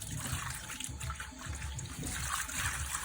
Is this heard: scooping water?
yes